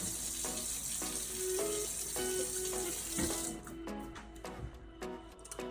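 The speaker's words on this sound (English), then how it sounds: "Which is washing our hands." Running tap water pours steadily into a kitchen sink as hands are washed before cooking stuffed peppers, a continuous hiss with intermittent splashes and clatter that eases off near the end.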